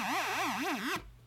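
A bright buzzy Minimoog Model D tone whose pitch wobbles up and down from an LFO in a steady, fast vibrato, about four cycles, then cuts off abruptly.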